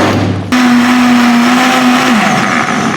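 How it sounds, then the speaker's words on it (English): A blender whirs loudly as it purees soft onions into juice, its motor kicking in abruptly after a brief pause and holding a steady high whine for about two seconds before settling into a rougher churn. "blending onions is really very easy"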